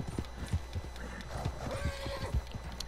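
A horse in the video game Red Dead Redemption 2 walks with clip-clop hooves and gives a drawn-out whinny, clear and close over soft background ambience.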